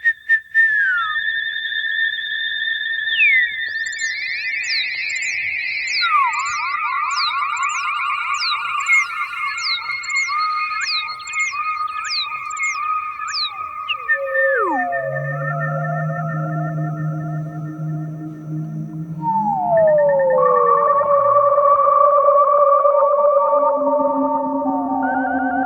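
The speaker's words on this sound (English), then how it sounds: "let's maybe do some whistling" Whistled melody sung into a microphone and run through guitar effects pedals, the tones echoing and pitch-shifting, sliding downward partway through before settling into layered, sustained processed notes; loud and continuous, no talking.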